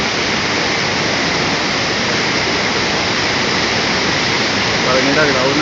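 A waterfall at San Jerónimo Tulijá roars as a steady, loud, broadband rush of falling water that stays constant throughout with no voices.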